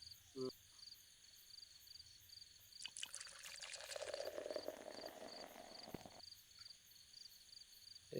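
Liquid poured steadily into a container for several seconds, a rushing trickle that swells and fades, over a faint background hum with insect-like chirping.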